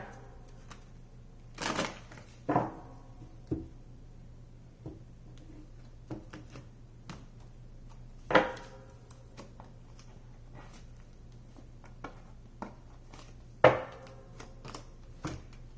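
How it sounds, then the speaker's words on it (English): Tarot cards are shuffled and tapped in a few brief, crisp bursts, separated by quiet pauses, up close in a still room. "One more shuffle."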